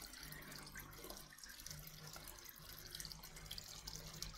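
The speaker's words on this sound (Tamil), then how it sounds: "இங்கே தண்ணி நிறைஞ்சி அடுத்த லேயர் இங்கே வந்து அப்புறம் இங்கே ஃபில்டர் ஆகி ஃபைனலாக அவுட் புட் இப்படி தான் இருக்கும்" Water trickles and flows steadily through the layers of a home water filter, a faint, continuous splashing hiss with a low hum underneath and no voices.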